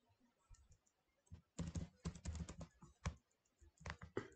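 Typing on a computer keyboard while building a flowchart in Microsoft PowerPoint, heard as close, irregular bursts of key clicks with short pauses between runs.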